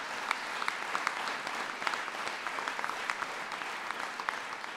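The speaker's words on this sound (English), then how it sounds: "sure you can clap for that" Audience applause at a Foxconn jobs announcement, a steady, dense wash of many hands clapping at moderate distance, fairly soft, with no voices over it.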